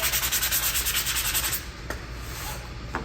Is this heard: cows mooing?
no